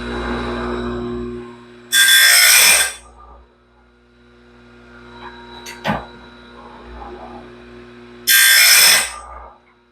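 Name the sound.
grinder sharpening the teeth of a sawmill band blade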